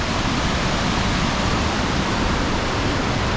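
A waterfall at Spenceville Wildlife Area, a loud, close, steady roar of rushing water that fills the clip with unbroken broadband noise and no voices.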